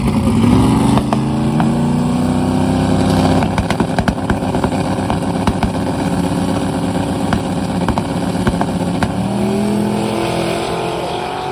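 A drag-racing car with a 3,000+ horsepower Viper engine makes a fast pass, a loud, continuous engine roar throughout with a rising pitch early on and steady high-power noise that carries to the end.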